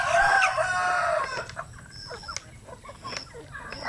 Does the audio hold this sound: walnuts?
no